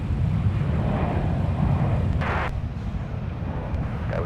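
A Delta airliner taking off from runway 30 left at Minneapolis–St. Paul airport gives a loud, steady, rumbling engine roar that fills the whole stretch without letup, with no voices.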